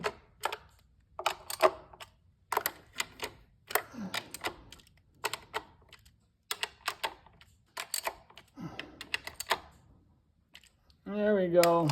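A wrench clicks in quick repeated bursts while fittings are tightened to a similar torque, close and fairly loud, with a voice talking in between.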